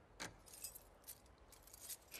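Keys jangle in The Last of Us Part II, a few quiet metallic clinking bursts scattered across a near-silent moment, close and soft.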